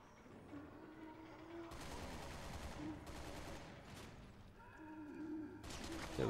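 Bursts of gunfire ring out in the Resident Evil 6 video game, coming as several rapid volleys against a background of game ambience and sounds.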